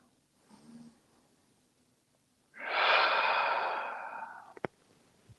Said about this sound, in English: Breathe into it.